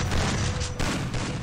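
Loud bursts of gunfire from the Free Fire video game arrive in quick succession, with a sharp new onset midway and dense close booms throughout, and nobody speaks.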